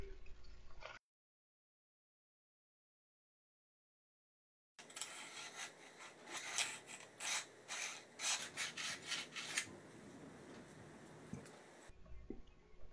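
A smithing file rasps lightly through the rail slots of a 1911 pistol frame to remove machining burrs, giving a series of close, scratchy metal strokes in an irregular rhythm after a stretch of silence.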